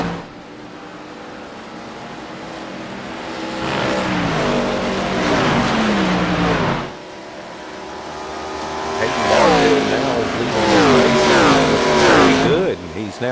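Stock race cars at speed on an ARCA track, with engines swelling and rising in pitch as several pass close by, a brief drop, then another loud cluster of cars roaring through, heard beneath ongoing commentary.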